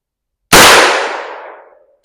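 A single sharp shotgun blast from a TPS M6 survival rifle's .410 barrel at clay targets on an outdoor range, loud and close, with a long fading ring-out afterward.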